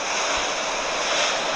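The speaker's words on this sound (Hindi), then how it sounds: "पानी की आवाज़ आ रही है" Rushing water at night in the Truckers of Europe 3 driving game, a steady, loud, even wash of noise with no breaks.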